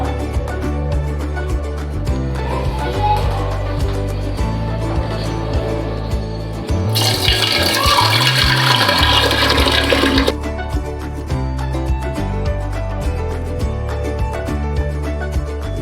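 Grape wine mixture is poured into a ceramic jar, making a gushing, splashing pour that swells for a few seconds midway through, set against continuous background music.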